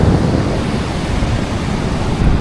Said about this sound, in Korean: 지금 해운대는 정말 멋있는 파도가 저를 반겨주고 있습니다